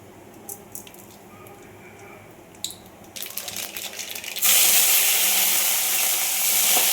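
Spices tempering in hot oil for sambar: a few small clicks and drips, then a sudden loud, sustained sizzle bursts up and keeps hissing close by, without talk.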